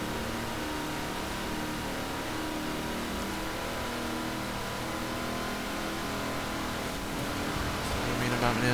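A supercar engine in a Forza Horizon 4 race keeps up a steady, loud drone with dense harmonic layers, rising slightly as it accelerates near the end. A voice talks quietly under it.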